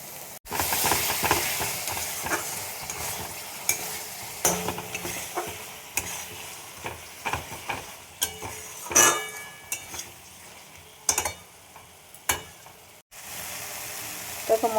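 Spices and garam masala frying in a pan give a faint sizzle under repeated scraping and stirring, with irregular clinks of a utensil against the pan.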